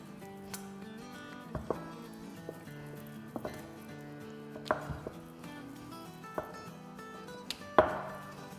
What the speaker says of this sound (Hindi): और अब इसको बेलेंगे।